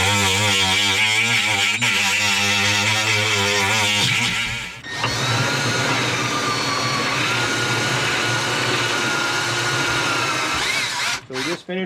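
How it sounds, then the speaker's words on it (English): A power drill bores through-hull holes in the hull of a 2001 sailboat, a steady loud whine with wavering pitch that cuts out briefly midway, then carries on as a continuous rough grinding drone. "So we just finished drilling our holes."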